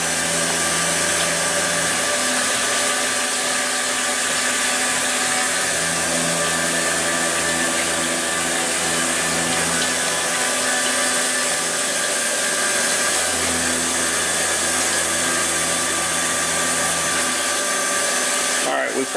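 A PM727M milling machine cuts steel at 5,000 RPM with a 30/1000 width of cut at 23 inches per minute, giving a loud, steady high-pitched whine and hiss that holds throughout, with faint low hum shifts underneath.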